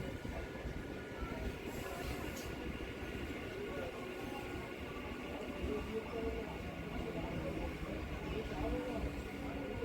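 The Bangaon-Ranaghat local train rolls along with a constant low rumble and rattle heard from inside the carriage, while people talk faintly in the background.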